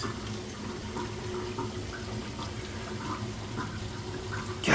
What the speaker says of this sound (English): Draining good. Draining fast.